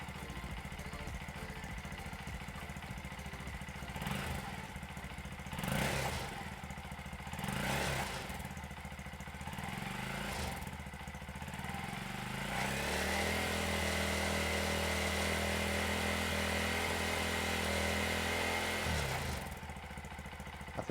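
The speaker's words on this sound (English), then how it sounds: "ticking over the standard exhaust is about" A Honda Monkey motorcycle with its stock exhaust idles steadily nearby with a low, even rumble, briefly revving a few times before settling into a smooth idle.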